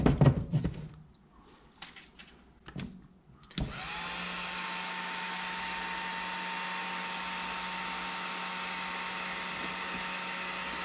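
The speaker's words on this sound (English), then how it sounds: "You cannot use a flame to do this. You have to use a heat gun." Heat gun shrinking tubing on a single-hook high-speed wahoo lure rig switches on after a few handling knocks and runs as a steady, loud, close blowing whir to the end.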